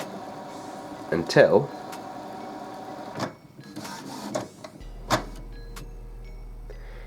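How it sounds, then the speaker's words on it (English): An Epson XP-4150 printer gives a few short mechanical whirs as its ink cartridge carriage shifts into position, moderately loud and close. A brief spoken word is heard, with quiet room tone between the bursts. "you get a little whir from the printer, which is moving the ink cartridge carriage inside the printer into the correct position"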